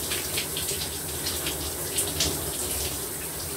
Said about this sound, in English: I'm gonna duck your head under the faucet.